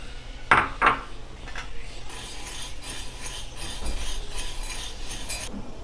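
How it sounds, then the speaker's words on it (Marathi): Chana dal dry-roasting in a pan for metkut spice powder, heard as clinking utensil strikes and scraping stirs against the metal, with a couple of sharper clanks early on over a steady low rattle of lentils, no talk. "प्रथम आपण हरभऱ्याची डाळ भाजून घेणार आहोत"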